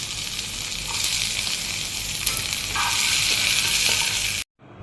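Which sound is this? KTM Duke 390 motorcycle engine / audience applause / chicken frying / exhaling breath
chicken frying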